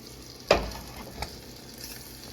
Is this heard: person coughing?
no